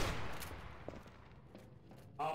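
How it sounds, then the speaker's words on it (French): Gunfire in a film, a few scattered sharp shots fading into distance amid a reverberant, noisy background, fairly faint overall. "t'as tiré de partout. T'as tiré de partout."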